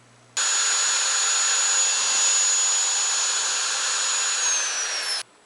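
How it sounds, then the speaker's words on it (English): A power drill bores a hole through a plastic bottle cap with a 5/16 inch bit. It makes one loud, steady whine of about five seconds that starts and stops abruptly and has no talk over it. "you'll need to drill a hole in the center of the cap"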